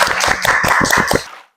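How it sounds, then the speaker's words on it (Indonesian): Brief burst of audience clapping in a classroom presentation, a quick run of close, loud claps lasting about a second before cutting off. "Beri tepuk tangan dulu untuk kelompok visual."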